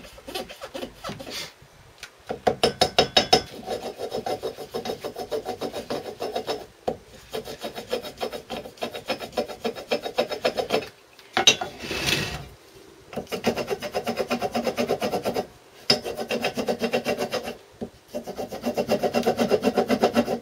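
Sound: cutting out port hole in two-stroke engine gasket

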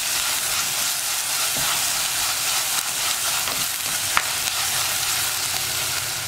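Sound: stirring onions and green chillies frying in a pan

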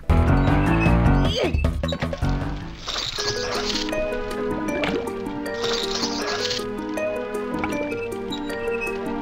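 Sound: water skiing through swamp water in video game Rayman 2

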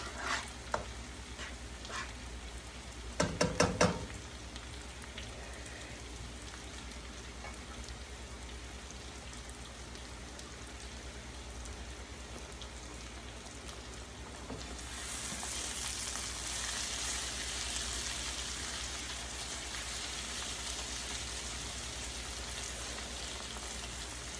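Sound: hilsa fish being fried in oil and spice paste

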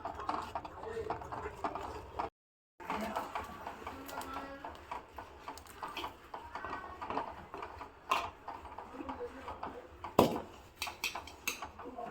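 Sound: mixing flour with ghee in a pan

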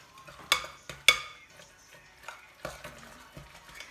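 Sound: mixing lahmacun topping of onion, garlic, parsley and spices

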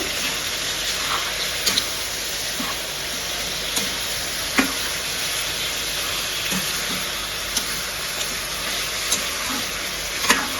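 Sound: stirring ginger-garlic paste into chicken curry in a pan

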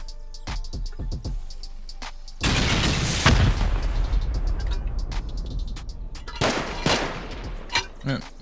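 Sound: rocket explosions raiding a base in a video game

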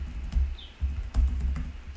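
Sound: typing a password on a computer keyboard

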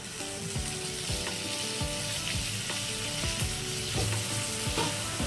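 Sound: pointed gourd (potol) frying in cooked poppy seed spice paste

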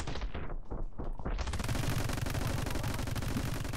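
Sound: gunfire in the video game My Friend Pedro

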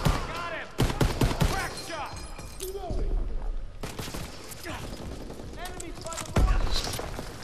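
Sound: gunfire in Call of Duty WWII video game

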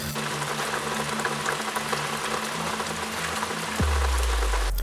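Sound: rain falling

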